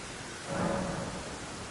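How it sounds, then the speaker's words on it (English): Rain falling in the video game Elden Ring, a soft, even hiss of steady rainfall, faint and continuous, swelling slightly for a moment midway. "Okay, now it's raining."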